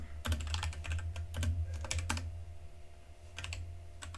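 Typing on a computer keyboard while coding, close, uneven clusters of quick key clicks with short pauses between bursts.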